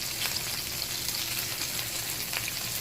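Stuffed onions browning in a frying pan, giving a steady, bright sizzle of hot fat that continues evenly throughout, with a few faint crackles and no talking.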